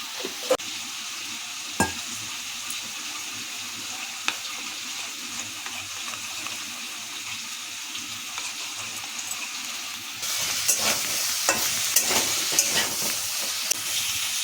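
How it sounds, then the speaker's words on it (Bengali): Pumpkin pieces frying in a pan give a steady close sizzle and hiss, with occasional stirring scrapes and clicks; the sizzle grows louder and busier toward the end. "মিষ্টি কুমড়া ভাজা হয়ে গেছে, তুলে নিচ্ছি"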